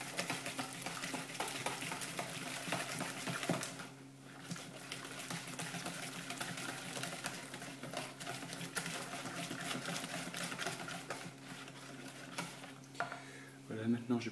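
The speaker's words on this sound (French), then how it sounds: "Pareil, je commence à battre le mélange." Marble cake batter whisked steadily in a bowl, a continuous close rhythmic beating and sloshing that runs almost without a break, with a brief lull partway through.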